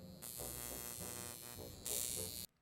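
A violet wand electrical device is switched on and gives off a steady, close electric buzz with a harsh rasping tone. The buzz swells brighter and louder near the end, then cuts off abruptly into silence, with no talking over it.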